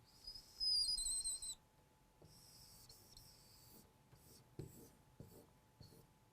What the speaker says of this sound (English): all I have to do is draw a circle around this point here at -1